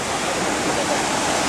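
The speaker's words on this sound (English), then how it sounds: "that's the waterfall Cascade" A natural waterfall at Man, Côte d'Ivoire, in West Africa roars as a dense, steady broadband rush that fills the whole short stretch without a break.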